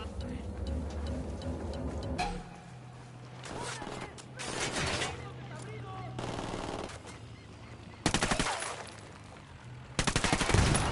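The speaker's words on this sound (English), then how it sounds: "Opening fire." Bursts of gunfire in the Ghost Recon Wildlands video game, with loud sharp volleys around the middle and end, over a steady engine-like drone and game voices talking.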